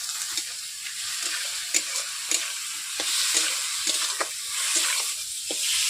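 Boiled potatoes stirred and fried in a hilsa fish masala, with a steady hiss of sizzling oil and occasional spatula scrapes against the pan, close and continuous, no talking.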